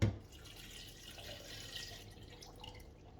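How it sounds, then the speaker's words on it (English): Water poured into a jug of cut lime, mint leaves and sugar for fruit juice, a soft continuous trickling splash after a small knock at the start. "Now I'm going to add the water."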